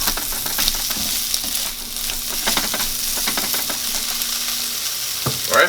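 Scrambled eggs sizzle and fry steadily in a hot pan, a continuous close crackle with faint stirring scrapes, no voices.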